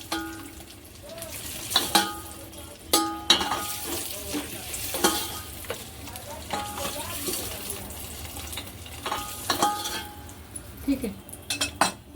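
Onions frying and being stirred in a pan on a low gas flame for egg biryani, steady sizzle under repeated metal spoon scrapes and clinks against the pot.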